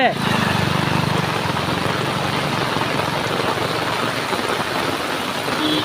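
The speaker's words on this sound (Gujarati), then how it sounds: "તો મિત્રો વરસાદ ફૂલ પડી રહ્યો છે." Heavy rain pours down over a village in Banaskantha, Gujarat, in a dense, continuous hiss that stays loud and steady throughout.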